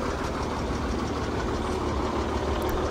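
A tall lifted pickup truck's engine idles steadily and close by, a continuous rumbling drone with no pauses and no voices.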